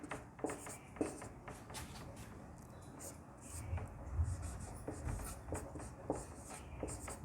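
Chalk or marker scratching out a maths formula on a classroom board, a steady stream of soft rubbing strokes and taps at close range with no talk.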